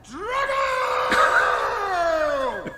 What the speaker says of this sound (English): some people need to run up a mountain in the snow and yell